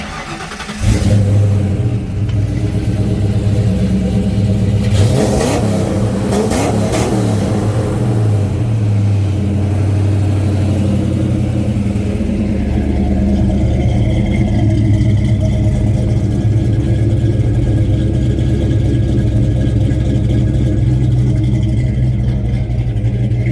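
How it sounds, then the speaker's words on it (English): A 1993 Mustang Cobra V8 engine, a 306 with a B-cam, starts with a loud burst, then idles with a choppy, lopey rumble and occasional revs, close and steady throughout. "We'll fire this one up. Now this car is a 306 with a B-cam."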